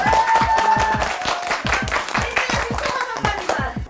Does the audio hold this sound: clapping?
yes